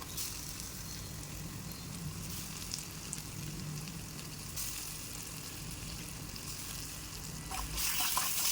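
Finely chopped tomato fries with softened onion in a pan for an egg masala curry, giving a steady close sizzle throughout that swells louder near the end.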